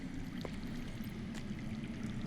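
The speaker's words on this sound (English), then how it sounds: "I hear water. From underground." Steady low rushing of water running underground, heard in a Game of Thrones Telltale video game scene; a continuous muffled flow with faint brief clicks, no voices.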